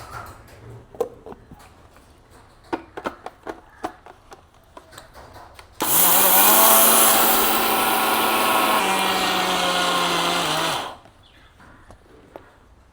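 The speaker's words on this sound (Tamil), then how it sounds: "மிக்ஸி கப்பில் அளவளவாக போட்டு அடிச்செடுப்போம்" A mixer grinder grinding sesame seeds roars loudly for about five seconds with a steady high whine, preceded and followed by quiet clinking and handling sounds.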